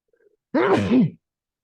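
A single person's sneeze, one loud close burst with a sharp voiced onset lasting about half a second, alone in an otherwise quiet room.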